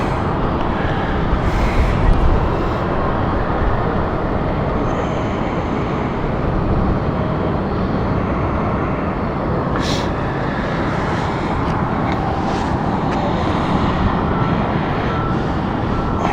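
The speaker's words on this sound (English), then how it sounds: "I can see a C-12 currently landing right now." A C-12 aircraft comes in to land at London City Airport, its broad, steady engine roar loud and continuous with faint road traffic mixed underneath.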